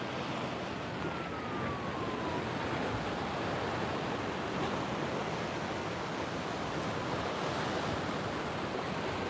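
Ocean surf rolls steadily along a beach at La Jolla Cove in San Diego, a continuous broadband wash of breaking waves with no clear gaps, fairly soft and even throughout, with no voices.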